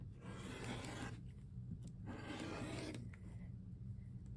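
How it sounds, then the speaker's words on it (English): A rotary cutter trims quilt blocks set on point, making two long rasping strokes with a quieter pause between them, close and fairly loud with no talking. "I'm going to grab my rotary cutter. And I'm going to go ahead and trim these down"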